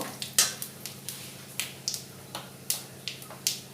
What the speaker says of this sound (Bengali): আর দেব অল্প গোটা জিরা, দিয়ে ফোড়নটা একটু নাড়াচাড়া করে নেব।